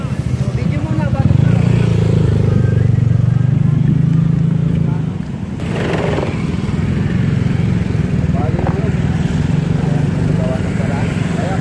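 A faulty motorcycle engine runs close by with a rough, loud drone that shifts pitch as it revs, while people talk over it.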